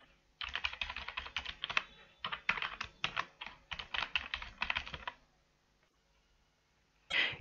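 Rapid bursts of typing on a computer keyboard as login details are entered, the key clicks close and steady in several runs with short pauses, then a final tap after a quiet gap.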